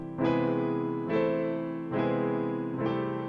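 Four sustained piano chords using borrowed diminished notes are struck one after another at an even, unhurried pace, each ringing out before the next.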